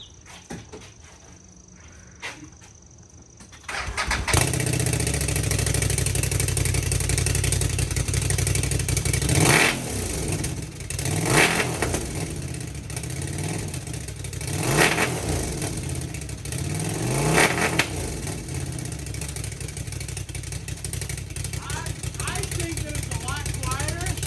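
A CFMOTO 950 motorcycle with dual exhaust and dB killers installed idles with a deep, throbby rumble, then revs sharply several times in quick bursts, each climbing and falling back to idle; close and loud.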